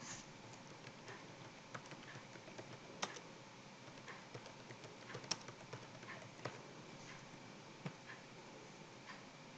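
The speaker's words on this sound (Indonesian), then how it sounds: "Ini Bapak ketik dulu." Computer keyboard typing while setting up a NAT internet gateway configuration, quiet irregular keystroke clicks with occasional sharper taps over a steady background hiss, no talking.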